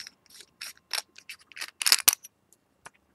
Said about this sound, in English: We'll take the switch off.